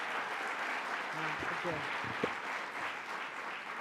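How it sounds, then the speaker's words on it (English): An audience at a New York governor's public announcement applauds with soft, continuous, distant clapping, heard faintly throughout while a voice speaks briefly over it. "Let's give her a big round of applause."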